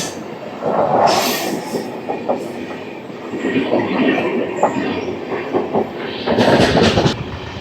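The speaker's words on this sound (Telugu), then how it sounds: "KSR Bengaluru Kanyakumari express train ఇది." Loud, close rumble of the KSR Bengaluru–Kanyakumari Express with its locomotive passing, steady wheel clatter and rattling carriages with occasional squeals, heard from a train in Kerala.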